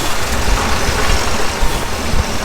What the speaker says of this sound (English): since I fixed the cylinder now, the motor runs a lot better, but it's also making a lot more heat